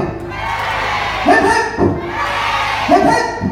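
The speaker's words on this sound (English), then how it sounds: "So let's have three cheers for Kitty." A circus crowd calls out cheers for a trapeze artist, two rising shouted bursts standing out over steady background chatter and murmur, fairly close.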